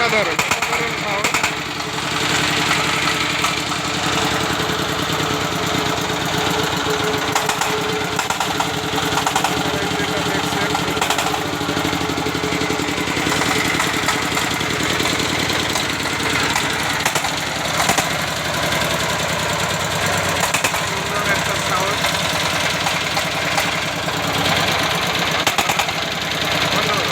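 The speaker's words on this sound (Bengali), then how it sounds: "তো দেখলেন আমাদের ইঞ্জিনটা, খুব সুন্দর একটা সাউন্ড।" A Sifang 25 HP diesel engine on a power tiller idles steadily, a continuous near rumble with a busy mechanical clatter running unbroken throughout.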